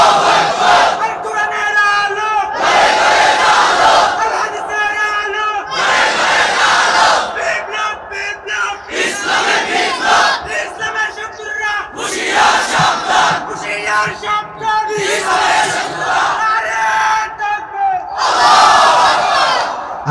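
A large crowd at an Islamic sermon shouts the takbir in loud, rhythmic unison, repeated bursts of massed voices rising and falling over twenty seconds with brief gaps between calls.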